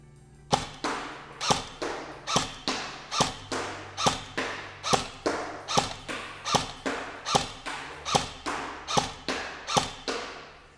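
An Echo 1 Bravo 74u airsoft gun fires semi-automatic, about twenty sharp, close snapping shots at a steady, roughly half-second rhythm, each with a faint thud of the BB striking.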